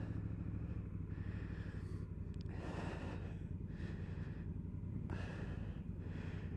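Honda CRF1000L Africa Twin DCT motorcycle, a 2019 model, pulls away with a steady close engine drone, the tone rising and shifting across several automatic gear changes over continuous wind rush.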